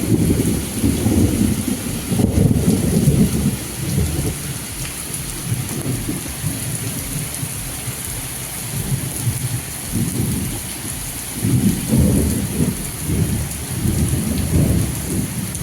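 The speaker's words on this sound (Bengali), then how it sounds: "কত জোরে বৃষ্টি হচ্ছে না" Heavy rain pours steadily on surfaces while deep thunder rumbles roll in and out in several swells, loud and close, with no talking.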